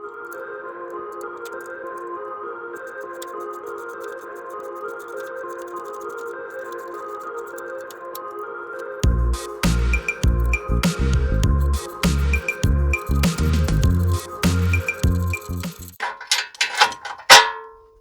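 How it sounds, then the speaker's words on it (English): Ratchet and wrench work loosening long-seized bumper bolts on a 1978 International Scout II diesel: a steady mechanical whirring gives way to loud, rapid, close clicking and clattering for several seconds, with no talking. "So let's go ahead and get this bumper pulled off."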